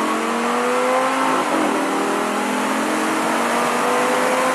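Vehicle engine revving steadily as the throttle is squeezed all the way down during a driving lesson, a continuous loud drone whose pitch rises and sways slightly, with no talk over it.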